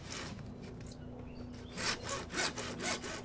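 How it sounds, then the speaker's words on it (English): A hand saw cuts through PVC pipe at close range, starting with light scraping strokes before settling into a steady back-and-forth rasp of about six strokes, with no talk. "Then, just gently let the saw do the work."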